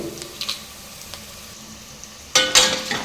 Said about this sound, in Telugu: ఎండుమిర్చి కూడా లైట్గా ఫ్రై చేసుకోవాలి.